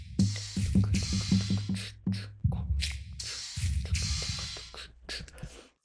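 A percussion beat from the first verse of a song plays on its own: punchy kicks and snappy hits in a quick syncopated pattern with brief gaps, crisp and close, with no talking.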